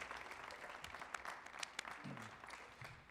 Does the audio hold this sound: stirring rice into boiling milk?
no